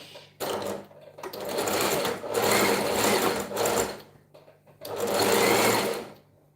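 A home sewing machine runs in several bursts of stitching while sewing a skirt seam toward a zipper opening, loud and close, with brief pauses between runs and a steady low hum.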